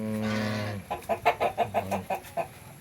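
A Rhode Island Red or Black Australorp heritage chicken gives a drawn-out squawk, then a quick run of about eight clucks, close and clear.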